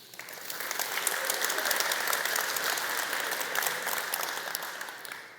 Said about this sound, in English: So applause for yourself.